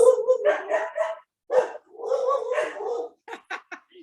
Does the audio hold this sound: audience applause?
no